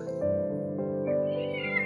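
Stray kittens, a whole litter left out in the cold and shivering, meow continuously in thin, weak, overlapping cries, close by with no talking.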